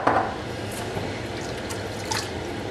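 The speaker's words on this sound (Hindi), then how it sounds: "इसके अंदर मैं 1 कप जो है पानी ऐड करूँगी" A cup of water poured onto mutton in a pressure cooker, a soft liquid splash and trickle, strongest at the start, with a few faint drips after, close and quiet.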